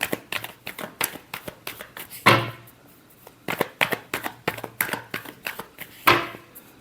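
Tarot cards are shuffled by hand in rapid riffling bursts with sharp snaps between them. The sound is close and loud, with no one speaking.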